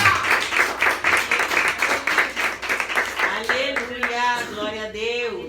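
A church congregation at a Portuguese-language worship service claps rhythmically and steadily, then voices rise over the fading applause.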